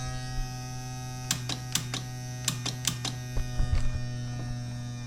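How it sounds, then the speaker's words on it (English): Nitrous solenoids on a 2005 Ski-Doo GSX600 HO snowmobile fitted with a wet nitrous kit click in a series of sharp, quick snaps over a steady electrical hum, some in tight pairs and a cluster near the end. "Solenoids firing."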